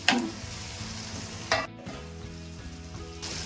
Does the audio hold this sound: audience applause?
no